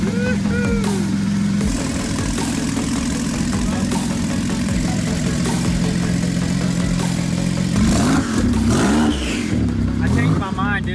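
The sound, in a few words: Porsche 911 Turbo engine revving with open exhaust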